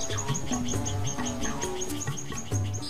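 Green-tailed sunbird calling among Mahonia blossoms, a quick series of high, thin chirps repeating in a steady rhythm, fairly close, with faint insect buzz behind.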